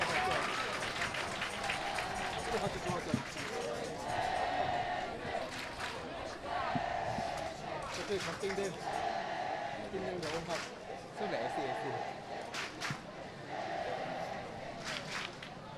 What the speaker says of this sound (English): sounded like ACSI cheering for us